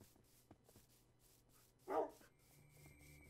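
Dogs in a Minecraft UHC game, a short, fairly loud bark near the middle amid soft game sounds, a few faint clicks and quieter yips.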